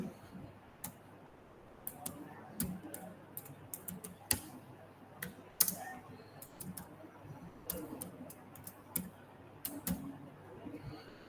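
Scattered keyboard clicks in an irregular typing rhythm, soft and close over a low background hum, with faint talk in the background.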